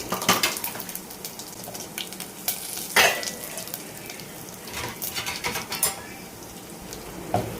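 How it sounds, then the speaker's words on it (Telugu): Mustard seeds, cumin and dried red chillies fry in hot oil as a tempering for an amaranth-leaf tomato chutney, a continuous close crackling sizzle with sharp pops and occasional clicking and scraping from the pan. "ఆవాలు జీలకర్ర ఎండుమిర్చి వేసుకొని బాగా వేగిన తర్వాత గ్రైండ్ చేసుకున్న మిశ్రమం ఇందులో వేసుకొని తాలింపు పెట్టుకోవాలి"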